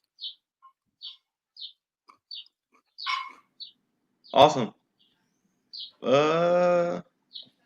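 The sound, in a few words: birds singing outside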